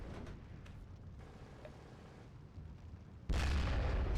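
Gunfire in a World War II strategy video game with flak guns, a low rumbling barrage of distant booms that swells into a loud, dense burst of artillery near the end.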